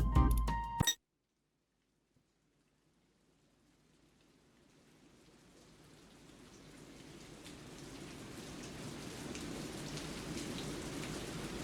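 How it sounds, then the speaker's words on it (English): Gentle rain patters steadily inside a shop in the game Hookah Haze, fading in after a brief clatter and silence and swelling to a soft, continuous hiss. "I like the sound of rain."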